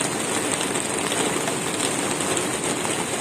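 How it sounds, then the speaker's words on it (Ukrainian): Steady rain falling outdoors at a home garden in Ukraine, a dense, even hiss that stays constant throughout with no talking. "І тут нарешті вже дощ"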